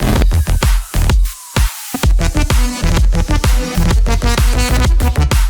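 Punchy electronic kick drums thump in a steady four-on-the-floor beat with layered percussion hits and a pulsing bassline, loud and close.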